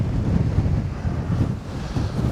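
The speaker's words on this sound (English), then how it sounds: "that's some nice wind" Wind gusting across a hilltop trail, a steady low roaring rumble buffeting the microphone for the whole stretch with no other sounds breaking through.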